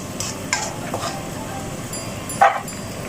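A spoon stirs a simmering chicken wing sauce in a pan, giving a few soft scraping strokes over a low bubbling sizzle, with one louder scrape near the end.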